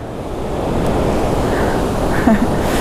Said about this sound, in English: So Jerry's staying here, and we are going up this cool river